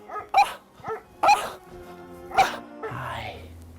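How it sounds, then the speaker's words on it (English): Dogs barking in a short series of sharp, separate barks, a few yips among them, with a whimpering tail at the end and a low hum beneath, moderately close. "Dogs?"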